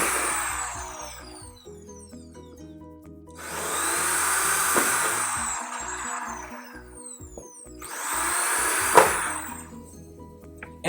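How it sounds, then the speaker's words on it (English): Three separate bursts of a power drill whirring through a PVC elbow, each a few seconds long with pauses between, close by and loud. "we're going to set it into the jig and we're going to drill 3 holes"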